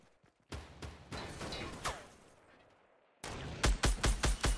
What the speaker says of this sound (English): Somebody shooting from behind now